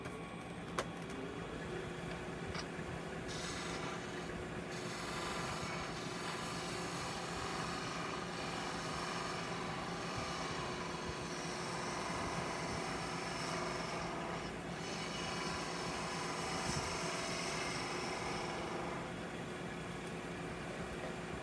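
Wood bottle stopper spinning on a lathe as a gouge takes a fine cut, a steady continuous hum and whir of the turning with a soft scraping hiss throughout, fairly even and close, no talk.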